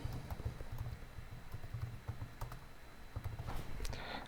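Keys clatter as a username is typed on a computer keyboard, a quick irregular run of light clicks and taps, close and quiet, with no voices.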